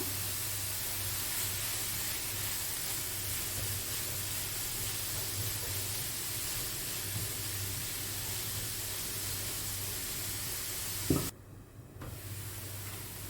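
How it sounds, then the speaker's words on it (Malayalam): Finely chopped onions sautéing in a pan with salt, a steady sizzling hiss that runs unbroken before a sudden clunk and a brief drop near the end, no voices. "ഒരു 2 ഉള്ളി ചെറുതായി അരിഞ്ഞ്, അതായത് പൊടിയായി അരിഞ്ഞതിട്ടിട്ട് വാട്ടിയെടുക്കണം"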